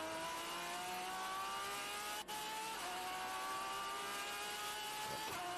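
Race cars at speed on the Indianapolis road course during a vintage and club race weekend, a steady loud engine roar with a rising pitch as the cars pass, no talk.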